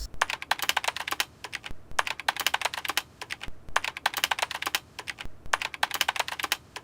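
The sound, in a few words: typing a title on a computer keyboard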